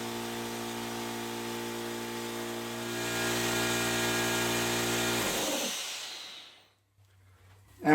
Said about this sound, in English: using this switch on the side of the compressor, we can turn it on and let it run for the 20-minute break-in period.